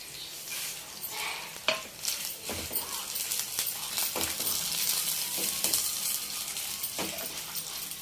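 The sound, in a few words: frying coriander seeds, chana dal and sesame seeds in pan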